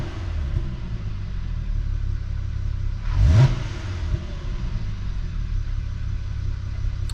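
A 2010 VW Passat R36 engine idling with a low rumble, then one quick sharp rev rising and falling around midway before settling back to a steady idle, heard up close under the hood.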